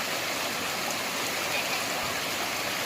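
A river near the Ulu Perdik Waterfall rushes in a steady, dense broadband wash, close and continuous, with no voices.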